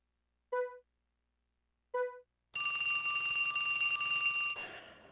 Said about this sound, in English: Should have unplugged the phone.